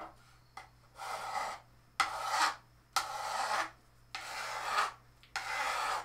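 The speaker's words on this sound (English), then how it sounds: "When you're filing, always file in one direction, always forward." A hand file rasps along the edge of cosplay armour in six separate forward strokes, each a close, scratchy burst lasting about half a second to a second, with short gaps between them.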